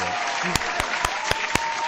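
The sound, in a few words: applause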